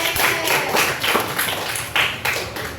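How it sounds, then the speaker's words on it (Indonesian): A classroom group applauds a presenting team, steady clapping from many hands filling the room for a few seconds, fairly close and loud, with no one speaking. "tepuk tangan buat kelompoknya Mbak Abel"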